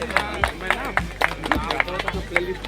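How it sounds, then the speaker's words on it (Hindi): Applause at an employees' award function, a loose ragged patter of hand claps from a smallish audience with voices and hubbub mixed in throughout. "तालियों की गड़गड़ाहट होनी चाहिए शुक्ल सर के लिए"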